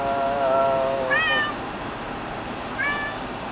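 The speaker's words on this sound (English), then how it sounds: "she likes to say meow" A small female cat meows twice, close by: a drawn-out call with a rising, bending pitch, then a shorter meow after a pause, over a steady room hiss.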